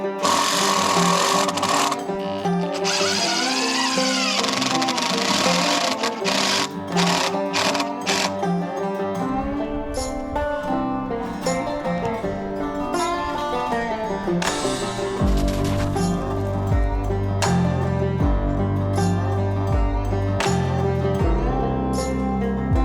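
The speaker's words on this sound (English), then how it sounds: "I'm just gonna rip that down to the exact right size" A 2x6 board is ripped to width with a small electric chainsaw mill: a continuous buzzing motor whine with shifting pitch as the cut loads and eases, loud and close throughout.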